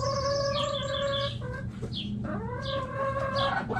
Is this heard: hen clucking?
yes